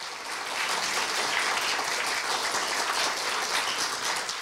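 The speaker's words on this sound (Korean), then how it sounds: "큰 박수 부탁드립니다" An audience at a Korea University staff retirement ceremony applauds during a presentation of commemorative gifts, with steady, moderately loud clapping that swells slightly and continues throughout.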